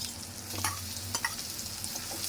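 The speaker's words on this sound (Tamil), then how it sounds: "இதையும் போட்டு நல்லா வதக்கிடுங்க" A paste of ground green chilli, ginger and garlic sautés in a pan, with a soft continuous sizzle and a few scraping stirs.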